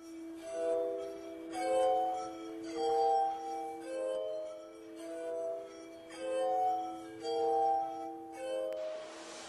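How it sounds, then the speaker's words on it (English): A glass harmonica of nested glass bowls of graded diameter and thickness, turned on a foot-powered spindle, plays a slow, ringing melody of sustained, pure glassy tones, each note swelling and fading, clear and alone. "In 1761, Franklin unveiled his glass harmonica."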